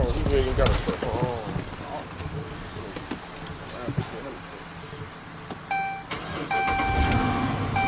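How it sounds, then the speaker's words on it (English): A push-button-start Chrysler or Dodge car engine with a cylinder 5 misfire cranks and catches, then idles with a steady mid-pitched hum while a beeping tone sounds nearby. "get this thing started. It's got a push start."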